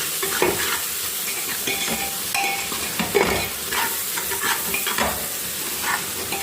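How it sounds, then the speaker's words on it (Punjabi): Salt and turmeric being stirred in a cooking pan, with a spoon scraping and clinking irregularly over a steady sizzle of frying oil, heard up close. "ਹੁਣ ਲੂਣ ਪਾ ਦਾਂ ਹੁਣ ਮਿਕਸ ਕਰ ਦਾਂ"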